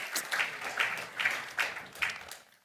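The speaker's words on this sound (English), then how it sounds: "please join me with a big applause for His Excellency Macky Sall, the former president of Senegal" Applause from an audience at a climate adaptation event in Nairobi, greeting the former president of Senegal, heard as a short burst of clapping that pulses and then fades out.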